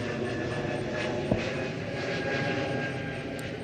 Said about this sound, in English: I'm right by the flight path by the airport, so it's constant planes.